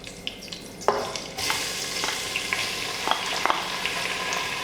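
Sliced onions frying in oil inside a pressure cooker for chicken biryani, stirred with a utensil: a steady sizzle carries several sharp scraping knocks against the metal, close and fairly loud, with no talking.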